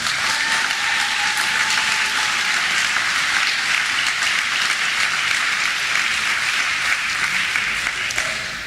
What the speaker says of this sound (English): One last round of applause for all of our recipients.